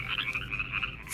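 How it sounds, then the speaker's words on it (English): Frogs croak in a dense, continuous chorus at moderate distance, a steady rattling drone with no talking, set within a children's telling of the plagues of Egypt. "There were frogs,"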